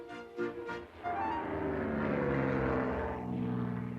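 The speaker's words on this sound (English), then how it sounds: "Percy heard the airplane zooming overhead all day." A propeller airplane flying overhead near an airfield gives a loud, steady engine drone that swells in after a brief stir and holds for several seconds.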